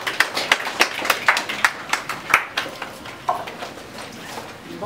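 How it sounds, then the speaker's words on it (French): A modest audience at a conference applauds a woman as she is introduced: scattered, uneven hand claps that swell briefly and then thin out, with no talking over them. "Applaudissements pour madame, s'il vous plaît."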